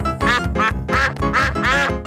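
Cartoon duck voice from a children's animated Christmas special, quacking five times in a steady, loud rhythm with no talk.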